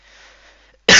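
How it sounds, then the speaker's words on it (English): A single sharp cough bursts out loudly near the end after a stretch of near silence, close to the microphone. "Random coughing."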